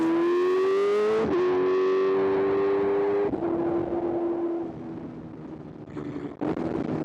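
A motorcycle engine holds a steady, loud harmonic drone while riding, shifting pitch as the throttle changes. Wind and road rumble grow as the engine note fades slightly toward the end.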